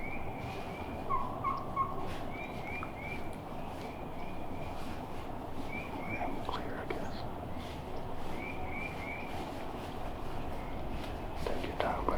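Wild turkeys, a hen and gobblers, call faintly at middle distance in the open while hunters whisper quietly and rustle close by.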